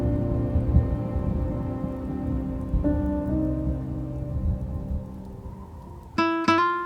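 Steady rain patters over a low rumbling storm in the survival video game Rust, set in a snowy winter world at night, with a sharp ringing tone cutting in near the end.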